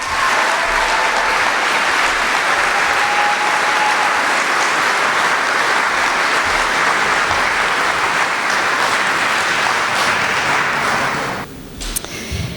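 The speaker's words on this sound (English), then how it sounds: "Please give a round of applause to Brandon Damaris." Loud, sustained applause from a high school graduation crowd for a graduate, a thick continuous roar of clapping that runs for about eleven seconds before cutting off abruptly.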